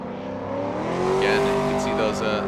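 A Nissan 370Z drift car on Nexen tires in Formula Drift qualifying at St. Louis: a loud, sustained engine drone rises in pitch as the car pushes through a drift, with tire hiss on top.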